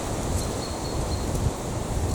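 Strong stormy wind rushes across a lakeside feeder-fishing spot, a steady loud roar of buffeting air with gusty swells and some rustling, no voices.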